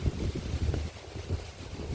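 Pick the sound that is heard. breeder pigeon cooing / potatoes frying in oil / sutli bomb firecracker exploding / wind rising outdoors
wind rising outdoors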